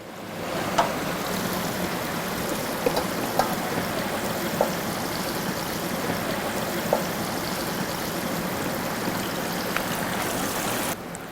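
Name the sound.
marinated quail frying in hot oil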